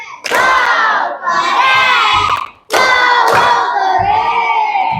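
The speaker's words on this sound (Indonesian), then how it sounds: "sekali lagi tepuk keren untuk kita semua" A classroom of children at an Indonesian school loudly chant and clap the 'tepuk keren' routine in two energetic bursts, shouted voices ringing close with rhythmic hand claps between them.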